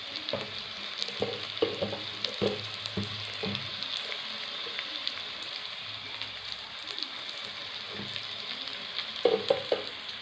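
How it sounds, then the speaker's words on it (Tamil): Broad beans with homemade chili powder sizzle and fry in a pan for a village-style sambar, with a steady crackling hiss and repeated scraping stirs throughout, close and unaccompanied by talk. "மிளகாத்தூள் போட்டாச்சு நல்லா வணக்கி விட்டாச்சு"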